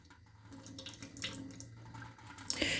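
Water is poured off from a container of fermenting garden seeds, a short steady trickling and splashing into a sink that swells into a louder gush near the end, with no talking.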